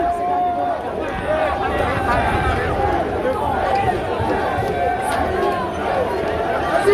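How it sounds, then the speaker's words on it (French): A crowd surges and shouts at Messi's arrival in Paris for PSG, a dense, loud babble of cheering voices and movement with close talk over the hubbub throughout. "regardez-moi ce mouvement de foule"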